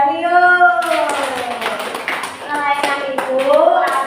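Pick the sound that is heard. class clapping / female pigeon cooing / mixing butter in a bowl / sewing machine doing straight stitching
class clapping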